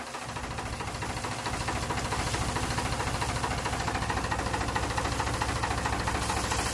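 A compressor motor runs while a tractor is being cleaned, giving a steady, rapid pulsing throb that grows a little louder and holds even throughout.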